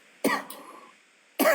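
A person coughs twice, close to the mic, with a short burst, a pause, then another harsh cough after a second of quiet.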